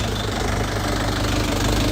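A cold Lovol 354 tractor engine idles with a steady, loud, rhythmic knocking chug, close up and unbroken throughout.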